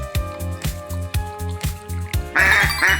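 A cartoonish duck quacks repeatedly over a bouncy preschool tune, with regular short quacks keeping time to the beat and a brighter, louder burst of quacking near the end.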